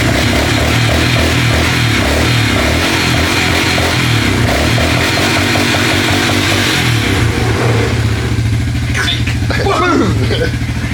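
A cheap four-wheeler ATV engine runs loud and close with a rough, buzzing idle, its revs climbing and dropping to clear out excess fuel, then settling into a steadier drone as a voice briefly breaks in near the end.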